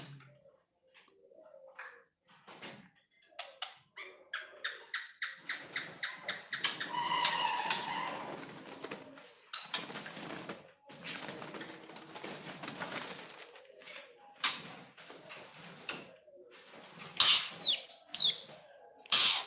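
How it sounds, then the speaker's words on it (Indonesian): A female white-rumped shama (murai batu) with a ring on its leg is heard up close in quiet surroundings: scattered short chirps and whistled call notes, with brief rustles and flutters between them. "Ini teman-teman bisa lihat di sini adalah murai batu yang ada ringnya sebelah kanan, tapi ini juga betina"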